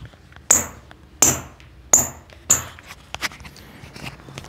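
Mills Triton Genome futsal shoe tapped by hand: four sharp, evenly spaced knocks, then several softer, quicker taps, close and clear with no talk.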